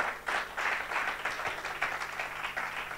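Congregation clapping during a church service, a moderate wash of overlapping handclaps that swells briefly and then continues at an even level, fairly quiet and somewhat distant.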